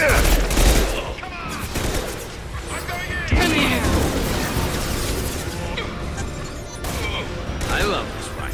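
Rapid bursts of rifle gunfire ring out during a Mass Effect 2 firefight, with cracking shots and explosive pops, loud and close, mixed with excited voices and game sound effects.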